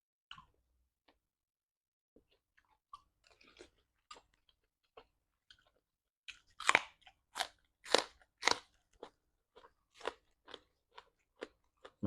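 Crunchy food, raw beef salad eaten with crisp accompaniments, chewed close to the mic; sparse soft bites at first, then a run of loud crisp crunches in steady rhythm with no talking.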